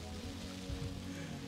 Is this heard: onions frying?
no